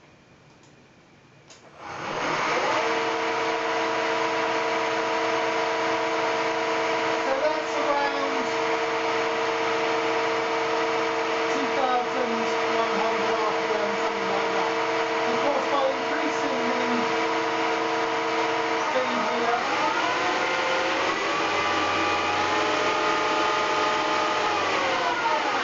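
Fehlmann Picomax 50 CNC spindle motor spinning up and holding its top speed, a loud steady high-pitched whine with layered harmonic tones that waver briefly near the end, close by and continuous.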